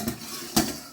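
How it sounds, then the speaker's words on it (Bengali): A metal lid lifts off a pot of steamed bhapa pitha wrapped in banana leaves, giving one sharp clink with a brief hiss of steam before quiet kitchen background returns. "বন্ধুরা এবার ঢাকনাটা খুলবো"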